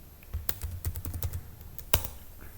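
Fingers typing a command on a computer keyboard, a quick close run of light key clicks with a firmer tap near the end, alone without talk.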